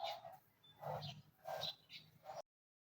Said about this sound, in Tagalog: Ang ingay ng mga ibon.